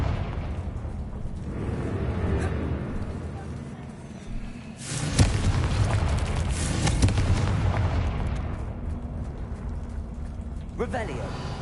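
The Confringo explosive spell in Hogwarts Legacy, with a sudden loud blast partway through that rolls into a long rumbling, crackling roar over steady game ambience.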